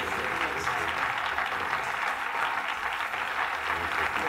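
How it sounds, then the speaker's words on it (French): An audience applauds a young girl dancing on stage, giving steady, dense clapping from a full crowd that stays even and loud throughout. "écoute, on l'acclame."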